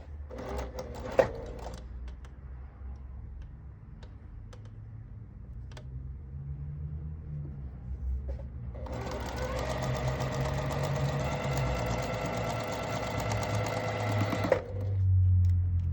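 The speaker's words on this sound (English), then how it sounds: "After I sew both sides, what I'm going to do now is stabilize this seam to its front, exactly matching." A sewing machine stitches a seam in a long, steady, close run of rapid mechanical whirring, preceded by a few clicks and handling sounds and ending abruptly.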